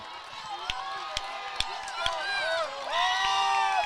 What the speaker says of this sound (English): So crowd getting loud here